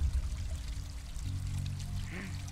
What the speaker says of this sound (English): Hey, a water stream.